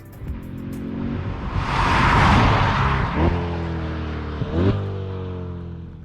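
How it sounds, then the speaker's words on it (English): A C8 Corvette 3LT with Z51 and a 6.2 liter V8 pulling away, heard from inside as a loud, swelling engine roar that rises through the gears with brief shift dips. "I'll just kind of pull away here and drive and talk."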